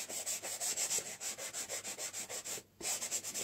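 Steady back-and-forth sanding strokes on painted wood of a vintage basket, rhythmic scratchy rasps with one brief pause, close and fairly quiet.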